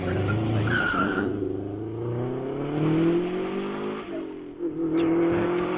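A racing car at a British hillclimb event braking and changing down, engine note rising and falling with tyre scrub. Loud and close throughout, with a brief clatter near the end.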